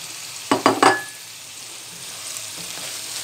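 Cauliflower and broccoli fried in a pan, a few sharp bursts of sizzle and stirring near the start, then a quiet, steady hiss of frying with no talk.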